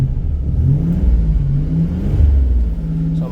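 A turbocharged Buick engine with a suspected bad MAP sensor runs roughly as it struggles to hold idle, a low uneven rumble that surges and sags over a few seconds with no talking.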